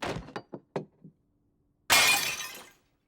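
A Tiffany lamp shatters in a cartoon, a loud burst of breaking glass after a series of short knocking footsteps and a brief pause.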